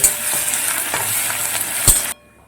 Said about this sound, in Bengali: রসুনটা খুব ভালো মতো এরকম লাচে লাচি করে ভেজে নিয়েছি